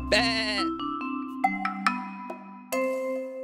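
One long, wavering sheep bleat opens a children's counting-sheep song. It is followed by sparse plucked musical notes, with no spoken words.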